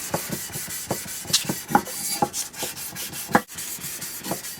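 Brisk back-and-forth swipes of 600 grit sandpaper over a Smith & Wesson third generation pistol part, a steady run of close, dry rasping strokes with no talk.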